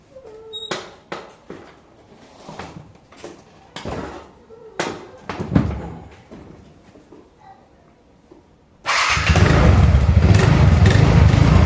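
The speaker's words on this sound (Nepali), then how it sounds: "अब स्टार्ट गर्नु पर्यो गाडीलाई होइन" A vehicle engine starts: several close knocks and clattering handling sounds come first, then the engine suddenly catches and runs at a loud, steady, rough roar to the end.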